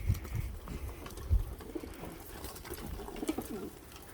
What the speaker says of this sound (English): look at all those birds. There's so many birds in there.